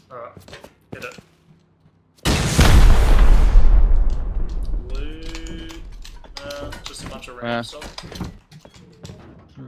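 A rocket blast during a Rust online raid on a roof-camping neighbour base, one loud booming explosion with a long decaying rumble, surrounded by keyboard clicks and players talking before and after.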